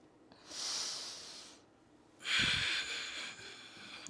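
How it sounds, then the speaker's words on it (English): Two slow, deep breaths close to the ear at the end of a floor stretching session, each a long airy rush with a gentle lull between them. "Maybe you just need to breathe."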